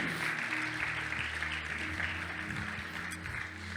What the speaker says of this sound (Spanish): ¿Querés aplaudir a Dios?